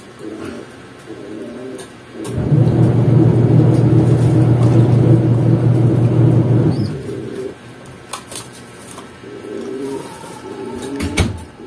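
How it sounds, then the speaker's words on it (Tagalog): Soft pigeon cooing at the start and end, with a loud low rumbling noise taking over for several seconds in the middle. "Yan mga kalapatids."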